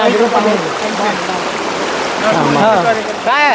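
Floodwater after heavy rain in a cut-off village pours steadily in a loud, continuous rushing wash close by, while people talk over it throughout.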